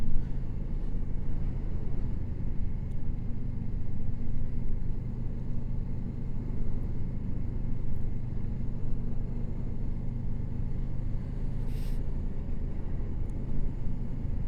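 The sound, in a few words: Moto Morini 6 1/2 motorcycle riding at slow speed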